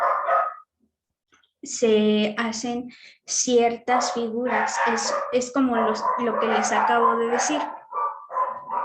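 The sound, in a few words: dogs barking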